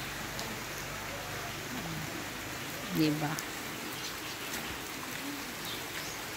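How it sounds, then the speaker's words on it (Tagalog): Steady rain hisses and patters over the whole stretch, with a short spoken word near the middle. "Ulan."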